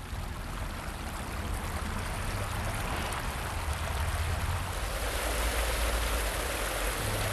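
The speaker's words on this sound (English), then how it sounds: "This is one of the major stream channels that feeds this stormwater pond." Water in a stream channel flowing into a stormwater pond in the Staten Island Bluebelt, a loud, steady rushing wash that holds constant and close with no voices.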